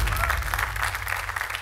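Applause from a studio audience at a televised comedy contest show, a dense steady burst of clapping that stays full and level throughout.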